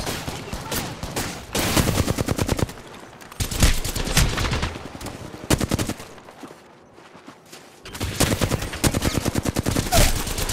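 Rapid automatic gunfire from the shooter game Apex Legends, with several loud bursts of clattering shots broken by short pauses and a quieter lull before a final sustained burst.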